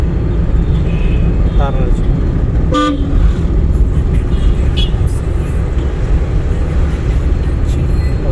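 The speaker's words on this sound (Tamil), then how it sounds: "ஹார்ன் அடிச்சு" Car horn gives one short toot in the middle of a driving lesson, heard inside a moving car over dense, loud road noise and engine rumble, with faint chatter.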